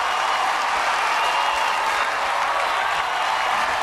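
Concert audience applauding steadily at Radio City Music Hall before a live performance, a dense, continuous wash of clapping with faint crowd noise throughout.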